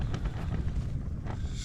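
Wind buffets the microphone during a wilderness hike to the Pöyrisjärvi wilds in autumn, a steady low rumble with gusty bursts, close and rough, with no talk.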